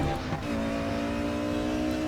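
A race car in RaceRoom Racing Experience drives at a steady engine drone, a continuous moderate hum with sustained tonal whine and no pauses.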